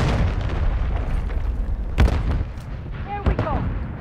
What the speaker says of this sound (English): I'm not dying to that fucking grenade launcher right now